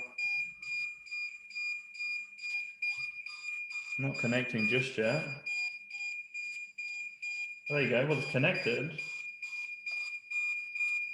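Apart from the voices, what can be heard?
drone controller warning beeping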